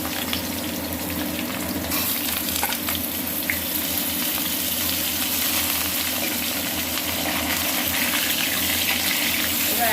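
Skin-on potato pieces fry in a hot pan for a vegetarian dish, a steady close sizzle running throughout with occasional stirring clinks and faint background noise.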